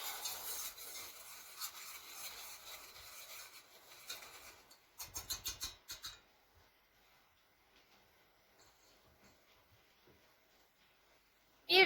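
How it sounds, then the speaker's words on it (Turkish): Egg yolks stirred into a dessert mixture in a bowl, heard as faint rubbing and scraping strokes, with a brief burst of quicker, louder strokes midway, then near silence. "Şimdi bunları karıştırıyoruz."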